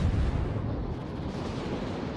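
Warship main guns firing shells in the naval game World of Warships, a dense, rumbling barrage of booming blasts that rolls on continuously at loud, steady volume with no talk.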